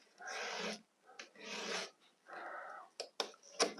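A file rasps across a chainsaw chain in slow, separate strokes, four long scraping passes close to the ear, then a few quick clicks and taps.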